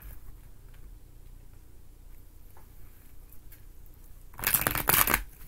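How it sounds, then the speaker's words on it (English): Tarot cards are shuffled in a quiet room: faint, scattered ticks give way to a brief burst of riffling near the end. "three more quick shuffles for Scorpio"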